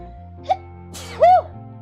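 A single voiced sneeze with a quick inhale bursts out close and clear over soft, steady background music from the Necrobarista visual novel game.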